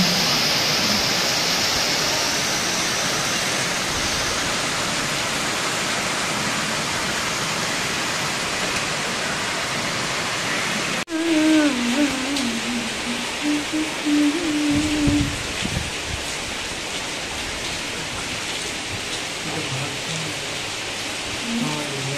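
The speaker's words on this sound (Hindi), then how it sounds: "आज बाहर बहुत बारिश हो रही है" Heavy rain falls outside during a Janmashtami celebration in India, a steady dense hiss for the first half that gives way to a more uneven patter, with brief indistinct sounds mixed in.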